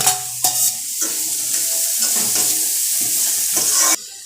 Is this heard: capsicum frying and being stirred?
yes